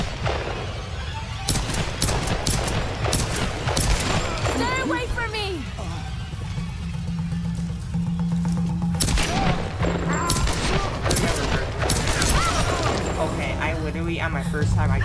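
Gunfire and explosive booms in the Tomb Raider video game, with bursts of shots and heavy thuds layered over a constant rumbling game soundtrack, while people talk throughout.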